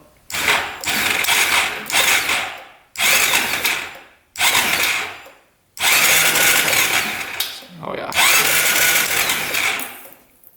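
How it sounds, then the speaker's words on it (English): Starter on a Honda ATV engine cranking in several loud bursts, each about one to two seconds long with short silences between, a busy mechanical whirring that never catches and runs. "We'll hit the start button."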